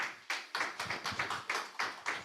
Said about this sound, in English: I think we can give him a better clap than that.